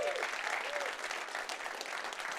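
Keynote audience at a 2017 tech conference breaks into applause, a dense, steady clapping from a large crowd that holds strong throughout, with faint voices mixed in.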